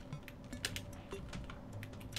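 Computer keyboard keys are double-tapped rapidly during a Terraria game, giving a dense, steady clatter of close clicks with no talking.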